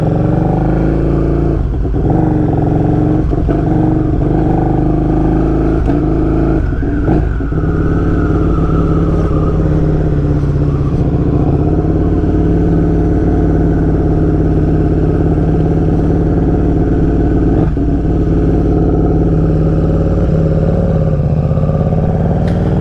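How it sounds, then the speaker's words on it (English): KTM 1290 Duke motorcycle being ridden, a loud, close, sustained engine drone with shifting revs and brief throttle dips throughout. "So our friend at Cycle Gear just let me ride his 1290 Duke."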